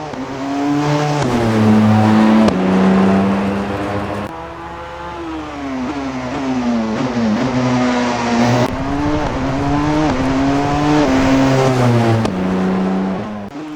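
The Porsche 919 Evo, an evolved 919 LMP1 hybrid prototype racing car in a racing game, screams loudly through repeated upshifts and downshifts, its engine pitch climbing and dropping in steady waves with sharp gear-change breaks, alone without talk.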